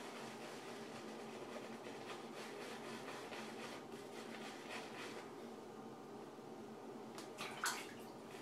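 Water runs steadily into a basin while a shaving brush is wetted for lathering a shave stick, a continuous soft splashing and trickle at close range, ending with a brief clink.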